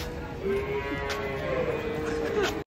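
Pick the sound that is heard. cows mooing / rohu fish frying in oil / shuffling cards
cows mooing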